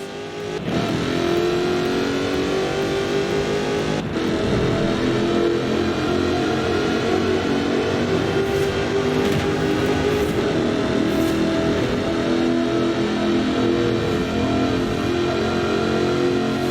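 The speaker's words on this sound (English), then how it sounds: "Powered by a 5-litre V8 supercharged engine, with a fully aluminium body, it's blisteringly fast" A supercharged 5-litre V8 in an aluminium-bodied car in Forza Horizon 4, a continuous loud engine roar with revving and acceleration, heard close and steady with brief shifts in pitch.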